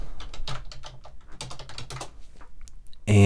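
Rapid typing on a computer keyboard at close range, a steady run of light clicking keystrokes that pauses briefly before a louder burst at the end.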